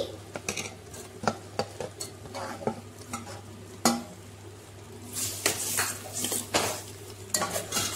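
Ground tomato-spice paste is stirred in hot oil in a metal pan for a millet tomato biryani, with irregular scraping and clinking strokes over a low sizzle, close by and growing busier toward the end.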